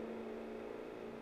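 A damaged race car engine in a stock car racing game drones at a steady, strained pitch, a continuous rough hum holding level throughout, with no talk over it.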